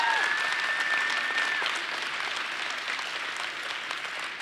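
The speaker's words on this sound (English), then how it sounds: "Let's give her a round of applause." Sustained applause from a civic audience at a 2024 State of the City address, steady and dense clapping filling the room from start to finish without a break.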